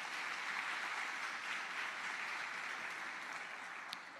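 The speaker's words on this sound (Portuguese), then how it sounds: "Dê um aplauso ao Senhor por tudo isso." A church congregation claps together in sustained, dense applause, a steady wash of hand claps filling the room from start to finish.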